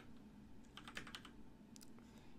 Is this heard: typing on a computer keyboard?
yes